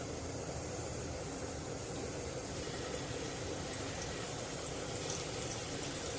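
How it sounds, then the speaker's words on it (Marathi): Marinated fish pieces sizzle in hot oil in a pan, a steady, dense crackling hiss that stays even throughout, close and alone with no voices. "मच्छी तव्यात टाकली की असा चर आवाज आला पाहिजे, म्हणजे तेल चांगलं तापलेलं आहे।"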